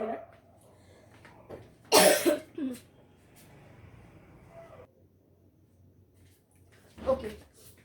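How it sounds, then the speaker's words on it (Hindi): A single burst of harsh coughing stands out against quiet background talk, followed a few seconds later by a shorter, fainter cough. "एक्चुअली बहुत ज्यादा खांसी आ रही थी"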